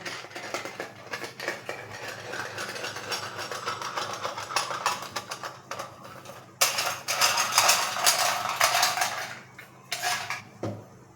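A metal sev press for making rice-flour chakri is picked up and handled in a kitchen, giving a run of clinks, rattles and scraping metallic knocks that swell and fade, with a sharper clatter late on.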